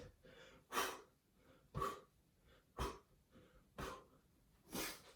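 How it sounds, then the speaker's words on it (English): Five heavy, forceful exhales during exercise reps come at a steady pace about one second apart, close and breathy, with quieter inhales between them. "you can hear me breathing on every one of these reps"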